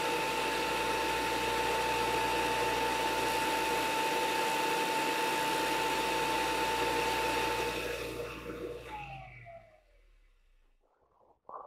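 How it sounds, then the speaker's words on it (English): A disc sander grinds down a guitar tuner part glued to scrap wood, giving a loud, steady whine with a strong hum, then winds down and falls silent near the end. "so that I can control it easily on my disc sander"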